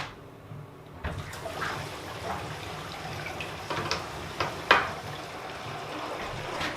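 Water drains through a sink trap in a homemade RV built on a 1977 Peterbilt 359, a steady gurgling rush with splashes and a few sharp knocks, close by.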